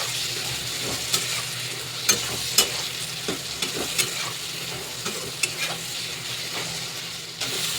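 Ridge gourd and potato curry frying in a pan with chilli powder, cumin and salt as the spices are stirred in, giving a constant sizzle and scattered scraping strokes of the stirring tool.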